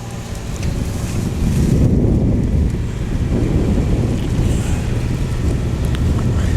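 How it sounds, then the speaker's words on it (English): Steady rain and gusting wind sweep across an outdoor course at a state schools cross country championship, a dense, continuous roar and rush with no voices. "And the rain is coming down here."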